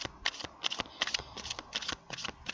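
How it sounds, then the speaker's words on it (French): Playing cards being drawn and handled, a quick series of soft crisp riffling snaps and slides in an irregular rhythm, close and quiet with no voices. "quand moi je tire mes cartes"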